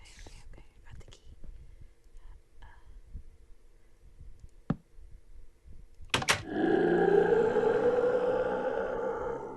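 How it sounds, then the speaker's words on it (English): A loud, sustained bellowing roar erupts from downstairs in a Minecraft horror map after a few sharp clicks and quiet whispering, rising abruptly and holding strong for several seconds. "I heard a bellowing roar from downstairs"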